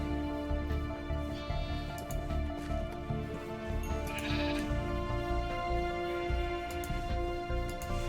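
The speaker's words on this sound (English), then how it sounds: "Okay, so there's 2 sheep that I can breed." Sheep bleating in the video game Minecraft, several repeated bleats over a steady background of in-game music or ambience, close and clear with no talking.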